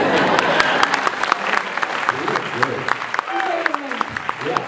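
Audience at a Q&A session of the 2015 Loft Film Fest claps and cheers, a dense steady wash of applause with scattered whoops and yells, fairly loud and continuous throughout, with a few voices calling out over it.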